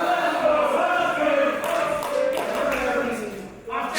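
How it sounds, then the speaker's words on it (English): A wrestling crowd at an indoor independent show cheers and chants for Mark Haskins, a dense, loud, sustained roar with rhythmic chanting voices layered throughout. "It's deafening here in Unit 9."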